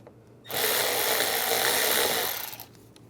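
An 8mm socket on a ratchet loosens a worm clamp on the airbox snorkel of a 2011-2018 RAM 1500 3.6L V6, making one sustained, close, buzzing ratchet run of about two seconds that fades out at the end.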